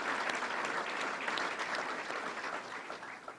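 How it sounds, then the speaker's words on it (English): Steady audience applause at a public announcement about a green state fair, a continuous wash of many hands clapping at moderate distance that holds throughout and eases slightly at the close. "And now that's a good point for applause right there."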